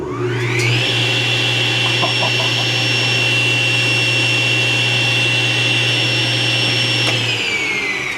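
A newly assembled saw makes its first run, a loud, steady motor whine that rises at start-up, holds level, then winds down near the end, close by with no talk.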